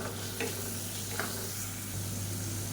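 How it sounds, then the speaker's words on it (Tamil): Tomato sautéing with ginger garlic paste in a pan gives a soft, steady sizzle with faint stirring scrapes, low and continuous throughout. "மீடியம் சைஸாக ஒரு தக்காளி சேர்த்துக்கலாம் தக்காளி நல்லா வதங்கட்டும்"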